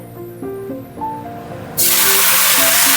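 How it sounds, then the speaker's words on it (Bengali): Water hits a hot pan of fried rice for an egg pilaf and erupts into a loud, steady hissing sizzle that lasts to the end, with no talk. "এবার আমি এর মধ্যে জল দিয়ে দেবো।"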